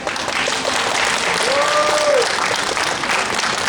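A crowd gives sustained applause at an outdoor union press conference on school shuttle safety. The clapping is dense, steady and loud from start to finish, with a faint voice audible beneath it.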